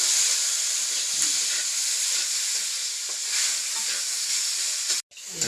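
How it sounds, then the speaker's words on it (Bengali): Taro stolons being stirred as they fry in oil with onion and green chili, a loud steady hiss of sizzling with soft scraping strokes, cutting off abruptly near the end. "ওই যে পেঁয়াজ কাঁচা মরিচ তেলের মধ্যে ভেজে লতিটা দিয়ে দিলে এখন নাড়াচাড়া করবো"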